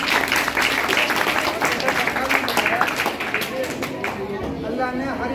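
An audience applauds a speaker at a poster-making competition, steady sustained clapping from a crowd that holds at an even level and thins slightly near the end, with some chatter mixed in.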